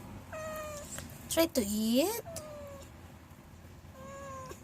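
A mother cat meows repeatedly, with one louder, drawn-out rising cry in the middle. A person talks over the calls, close by, against steady background noise.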